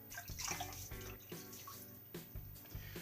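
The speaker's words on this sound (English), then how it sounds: "So throw some water on the head." Water splashed onto the head of a shaving brush heavy with soap, a short wet rush with a few distinct gushes, close and alone.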